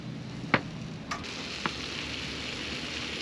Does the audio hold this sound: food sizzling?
yes